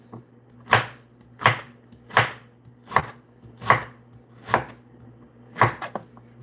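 Carrots chopped with a knife on a board in a home kitchen, seven steady, evenly spaced thuds, close and clear, with no talking.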